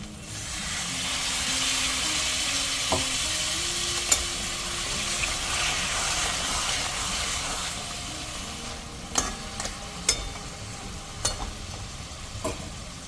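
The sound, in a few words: crab masala sizzling in pan after adding spice-rinse water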